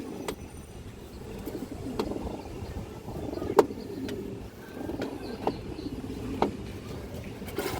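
Pigeons, including a Sundori line hen, coo softly in a loft with low murmuring calls, scattered sharp clicks and scuffles breaking through at irregular moments.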